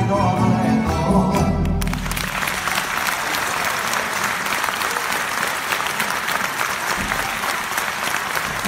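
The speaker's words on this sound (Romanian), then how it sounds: "Vă mulțumesc mult pentru aplauze." Sustained applause from a live concert audience in Baia Mare fills the space, loud and continuous after the music ends, with a voice singing briefly before it.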